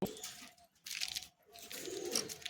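Soft cooing of a pair of Madrasi high-flying pigeons in a cage, in short bursts with pauses between, close and quiet, with faint rustling; no voices.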